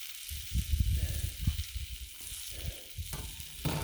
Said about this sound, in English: Gonna let it sear a minute.